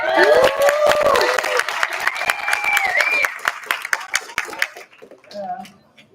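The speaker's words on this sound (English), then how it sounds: "Can we give a round of applause for Senator Eze because she just got promoted to office manager?" A meeting-room audience claps for a student government senator just promoted to office manager, a scattered burst of hands under speech and murmuring that thins out over several seconds.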